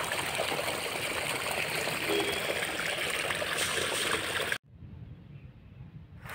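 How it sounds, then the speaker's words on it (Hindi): Rainwater streams across a road and pours into an empty plot during the rainy season, a steady broadband rushing and trickling that runs loud for several seconds before cutting abruptly to a quieter, softer flow. "इधर से पानी इधर से आ रहा है जस्ट रोड क्रॉस करके"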